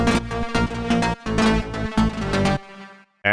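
An aggressive, buzzy synth lead recreating the lead from a track plays loud, chopped stabs in a driving rhythm with brief gaps, then falls silent before a short new hit at the end.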